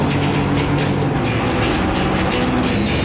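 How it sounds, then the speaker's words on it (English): Porsche 917 race car engine roaring loud and close, a dense continuous snarl held steady for the whole stretch with no voices over it. "Just look at it. Just listen to it."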